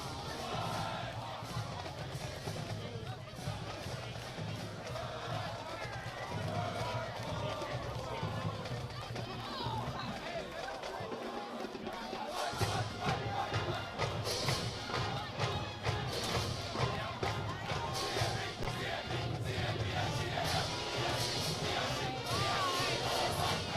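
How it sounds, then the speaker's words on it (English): Crusaders football fans in the stands at a college game chanting and singing their fight song together, a loud rhythmic mass of voices with crowd noise and a marching band in the background. "the Crusaders are getting set to sing their fight song here on the near side"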